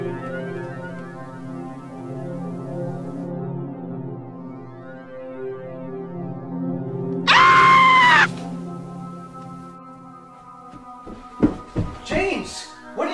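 A girl screams loudly in a burst lasting about a second near the middle, set against a droning, tonal background, followed by shorter sharp cries and vocal sounds toward the end.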